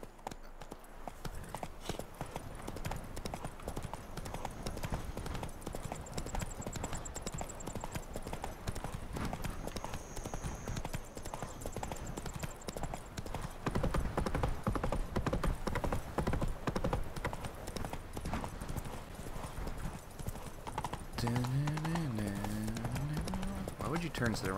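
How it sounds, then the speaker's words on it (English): Hoofbeats of a horse trotting along the streets of Toussaint in The Witcher 3: Blood and Wine, a steady clip-clop rhythm throughout with a short neigh near the end, under ongoing game ambience and someone talking. "Whoa there, Roach."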